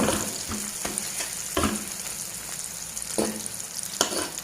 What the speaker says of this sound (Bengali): মাছের তেলের মধ্যে আমি পেঁয়াজ মরিচ সামান্য পরিমাণ কালো জিরা দিয়েছি এবং দিয়েছি একটা ছোট সাইজের টমেটো এটা ভালোভাবে এখন একটু কষা কষা করে নিচ্ছি